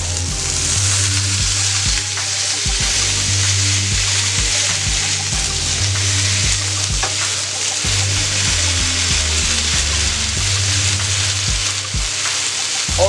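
Smash burger patties sizzle steadily and loudly on a hot flat griddle, a constant dense frying hiss with low rhythmic thumps running throughout, no voices.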